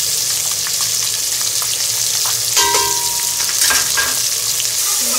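Onions fry with tomato, ginger, garlic and green chili paste for a Punjabi chana pulao, a steady loud sizzle close by with a few stirring scrapes and bubbling pops, no talking.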